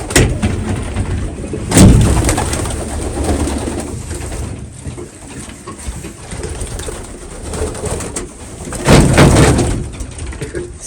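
Many racing pigeons coo together in a loft in a steady, close murmur, with occasional louder bursts of wing flutter and movement.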